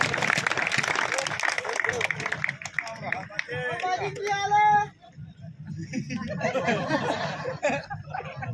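Audience at a comedy poetry gathering in Jaisalmer claps and chuckles for a humorous poet, a busy crowd wash with a voice calling out over it midway before the clapping and laughter continue.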